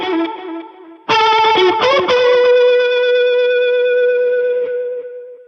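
A distorted electric guitar rings out a short riff from a song with heavy effects, starting with a held note, then a loud burst of bends and sustained chorused tones fading out.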